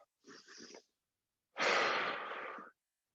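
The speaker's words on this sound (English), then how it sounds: "just take some breaths" Two deep breaths during a chest-opening stretch at a live boot camp class: a short, softer inhale followed by a longer, louder breathy exhale, close and clear with silence between.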